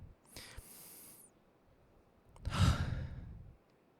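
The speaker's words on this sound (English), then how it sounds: "take a moment to breathe with me." One slow, deep breath close to the microphone: a soft airy inhale followed after a pause by a longer, heavier exhale, quiet and alone.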